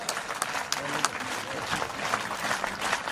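Audience applause at an inauguration ceremony, uneven clapping with some distinct sharp claps and a voice speaking underneath.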